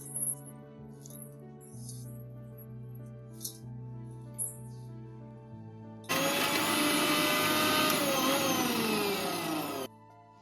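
A kitchen mixer grinder whirs loudly and steadily for about four seconds as it grinds dry fruits and oats for a milkshake, preceded by quieter kitchen handling sounds.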